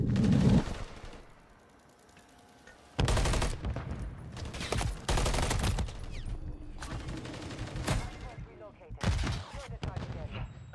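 Gunfire in a ranked online video game bursts out in several loud, sharp volleys after a quiet stretch, with shorter fire between them, under faint voices.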